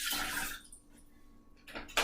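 Water splashes and pours steadily into a pot on the stove for a couple of seconds, a close, hissy rush that thins out briefly before surging again at the end.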